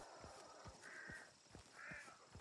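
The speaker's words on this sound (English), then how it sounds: "Oh god, the birds." Crows caw twice in the game Hunt: Showdown, each call a drawn-out harsh squawk set against faint ambient background and soft repeated low thumps.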